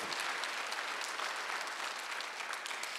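A church congregation at a Sunday worship service claps together in a dense, continuous burst of applause that stays steady and full for the whole stretch, filling the hall with no voice above it.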